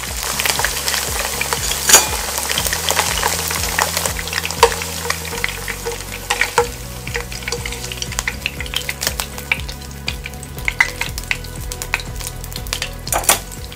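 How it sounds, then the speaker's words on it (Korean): Strips of beef for Mongolian beef sizzling loudly in an oiled nonstick pan, with steady frying hiss and repeated scraping and clinking as a utensil stirs the meat, close and with no talking. "아, 참고로 고기는 바짝 익혀주는 편이 좋습니다"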